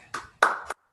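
A few scattered handclaps from online webinar participants, three brief bursts close together, fairly quiet, then silence.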